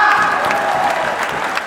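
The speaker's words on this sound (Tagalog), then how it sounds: "palakpakan na malakas!" A crowd claps loudly at a motivational event, dense applause with a few scattered cheers and voices, brief and close.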